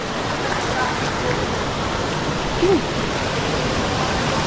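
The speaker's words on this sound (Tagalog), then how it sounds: "Lakas ng agos." Rushing current at Payaran Falls in Montalban, Rizal, heard as a dense, constant roar of water at night, loud and steady, with a brief faint sound near the middle.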